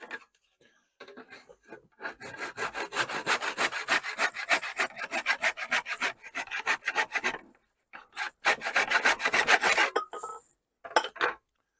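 A hand saw rasps through an oak dowel in quick, rhythmic strokes, a long run of sawing, a brief pause, then more strokes until the piece cuts free.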